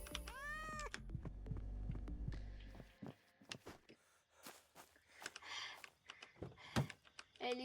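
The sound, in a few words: cat meowing in a video game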